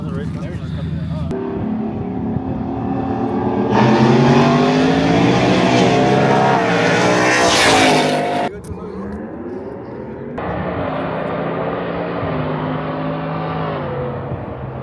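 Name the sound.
drag race cars accelerating down the strip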